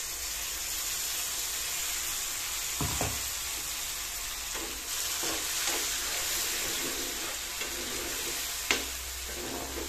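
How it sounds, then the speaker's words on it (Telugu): Masala paste fries in hot tempering oil with a steady loud sizzle, broken by a few brief stirring scrapes and clinks close by. "తాలింపు వేగింది కదా, ఇప్పుడు మనం ఈ పేస్ట్ అంతా కూడా ఇందులో వేసేసుకోవాలి"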